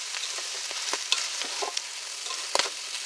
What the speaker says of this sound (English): you can hear the popping and the sizzling